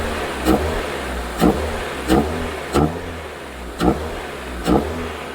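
A 1994 Toyota Corolla 7AFE engine warms up after startup, holding a steady idle broken by about six short, evenly spaced blips of the throttle.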